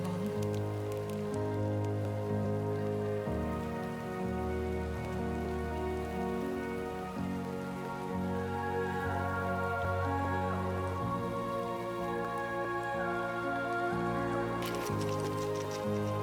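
Steady Timefall rain in the video game Death Stranding 2, a continuous hiss of rainfall on surfaces, with sustained low tonal game music underneath throughout.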